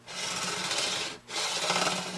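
Two long rasping strokes of a fine metal file scraping back and forth over guitar frets under light pressure, close and steady, with a brief pause between them.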